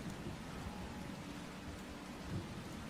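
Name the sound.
rain sound effect played during a tabletop game session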